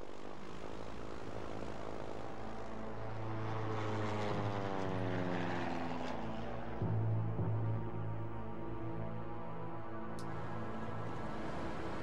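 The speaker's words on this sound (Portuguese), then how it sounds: "Ah, um avião?" A propeller airplane drones steadily in the Scarface PS2 video game, a loud continuous engine hum with a slowly shifting pitch and no speech.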